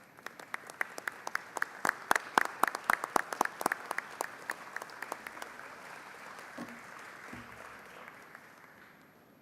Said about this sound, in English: members, give them a round of applause for in welcoming them to the Texas Capitol